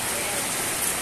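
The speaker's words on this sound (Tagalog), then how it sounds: "Nag-uumpisa na naman po umulan." Rain beginning to fall at an evening market, a steady broadband patter close by with no clear pauses.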